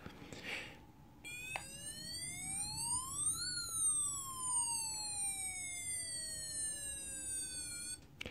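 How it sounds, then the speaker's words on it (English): A loud electronic fire engine siren sweeps its pitch up and then slowly back down in a single long wail, over a low background rumble. "turns on the flashing blue lights and the wailing siren"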